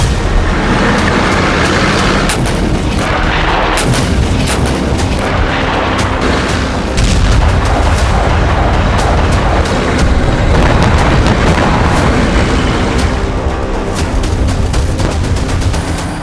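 An Abrams tank's 120 mm smoothbore gun fires shells in a dense, continuous barrage of loud booms and blasts, layered with rapid gunfire and rumbling throughout, with no talk.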